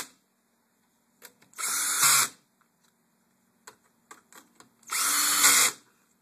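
Two loud, close bursts of a power drill driving screws into an LG LCD TV during repair, each whirring for about half a second to a second, with soft clicks and handling noises between them.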